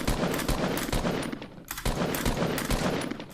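Rapid automatic gunfire from the game Fortnite rattles in dense bursts as shots hammer at a metal tower, loud and continuous with a brief lull midway.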